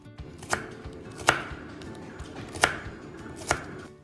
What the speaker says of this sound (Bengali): খুব সুন্দর সবজি কেটে দিচ্ছে